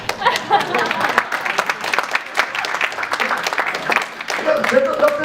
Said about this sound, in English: Give me a clap on that, please.